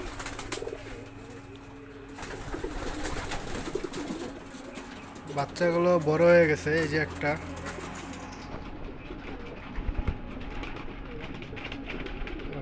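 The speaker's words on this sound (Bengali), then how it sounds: "এই যে আমার কবুতর দেখতে পাচ্ছেন।" Domestic pigeons kept indoors in a small home loft coo in soft, rolling bursts, loudest near the middle, mixed with rustling and someone talking nearby.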